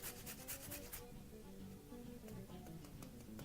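The last bit of a carrot is rubbed against a grater in quick, rough scraping strokes, very quiet and close, with a soft rhythmic rasp throughout.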